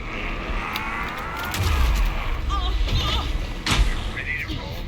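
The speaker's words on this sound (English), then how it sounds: "Anderson, pin him down with gunfire for me to get the light on him." Gunfire in the Alan Wake 2 video game, a few sharp broadband bursts mixed with low booms and music, heard under voices talking.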